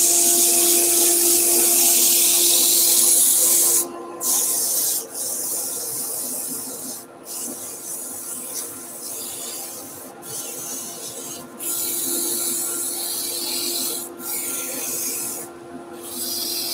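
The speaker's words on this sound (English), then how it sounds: "There we are, a bit of a rotary sand now." A hand-held rotary sander works steadily across a hollowed wooden piece, giving a continuous rough rubbing whir. The whir cuts off briefly several times as the sander lifts away, then resumes. No voices are heard.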